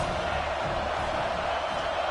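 A stadium crowd at a USC versus Auburn college football game roars as a dense, steady wash of noise, loud and continuous throughout the short stretch.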